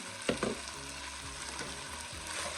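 Vegetables including onions and celery sizzle in a pot while being stirred for keto sausage and chicken gumbo, with a couple of louder scraping stirs early on over a steady frying hiss.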